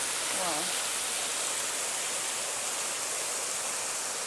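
Waterfall near the Cueva del Indio in Valle del Lunarejo, Uruguay, a steady, broad rushing roar of falling water close by, constant and even across the whole stretch, with a brief faint voice near the start.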